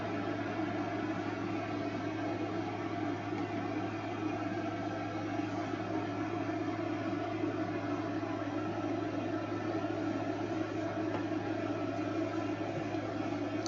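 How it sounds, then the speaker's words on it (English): A room air conditioner hums and whirs steadily close by, a constant even drone with a low tonal hum that never changes for the whole stretch. "I'm sorry if you hear my air conditioner in the background."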